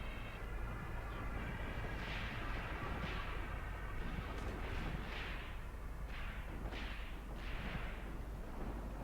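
Distant battlefield gunfire in the Graviteam Tactics war game, set around a village near Kharkov in 1942, with an SMG platoon under fire; scattered bursts and muffled reports sit over a steady low rumble, fairly even and moderately quiet throughout.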